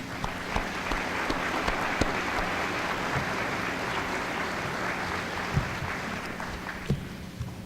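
Audience at a 1997 high school graduation ceremony applauding the teachers, a sustained, somewhat distant patter of many hands in a large space with a low steady hum beneath.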